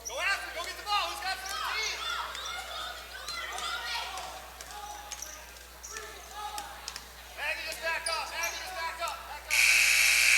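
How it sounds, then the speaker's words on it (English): A game-ending buzzer sounds at a girls' JV high school basketball game in a gym, a loud sustained blare that cuts in at the end after squeaking sneakers, bouncing balls and crowd voices. "And there is the buzzer. That will end this basketball game."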